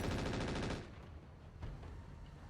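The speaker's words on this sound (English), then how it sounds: "Just a machine gun on the stealth we don't care about" A machine gun fires a rapid, loud burst in the RogueTech mech combat game, then cuts off into quieter rumbling battle noise.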